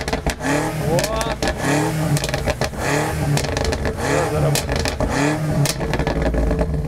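A stock BMW engine revs on a race track, loud and close. The throttle rises and falls in repeated surges with rattly clatter, and voices are audible over the engine.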